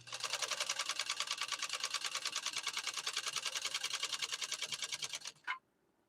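A PFAFF 130-6 sewing machine stitches steadily for about five seconds, its needle mechanism chattering in a fast, even rhythm close by before it stops abruptly with a final clunk.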